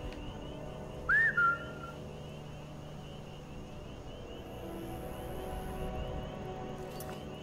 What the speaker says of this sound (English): I'm whistling for Inigo and he's responding back.